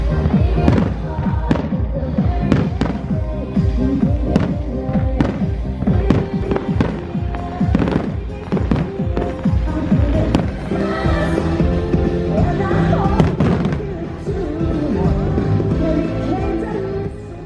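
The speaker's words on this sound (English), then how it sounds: "The best part of the night was the Christmas Eve fireworks." Christmas Eve fireworks in Kyushu, Japan, pop and crackle in rapid, overlapping bursts with deep thumps, loud and continuous, with faint crowd voices underneath.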